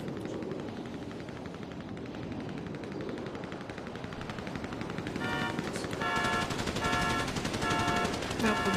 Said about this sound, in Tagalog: Napunta dito ang barilan.